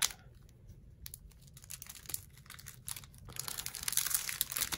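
Crinkly plastic packaging around a set of Diamond Press nesting doily dies is pulled open by hand, producing irregular crackling and rustling that grows louder toward the end, with no talking.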